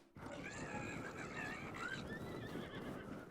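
Horses whinny and neigh in The Legend of Zelda: Breath of the Wild, several overlapping calls over a dense, steady background of game noise.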